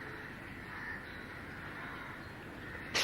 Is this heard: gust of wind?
no